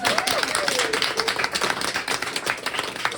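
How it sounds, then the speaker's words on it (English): An audience claps for a host's guest at a London welcome event, brisk scattered hand claps with a brief voice sliding through early on. "Can we give her a round of applause?"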